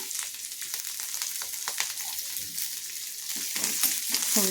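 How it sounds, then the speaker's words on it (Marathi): Lentils fry in a hot tempering with green chilli, grated ginger and curry leaves, a close, steady crackling sizzle with small pops and occasional stirring, no talk. "छान खरपूस तळून घ्यायची आहे डाळी पण छान तळल्या गेल्या आहेत"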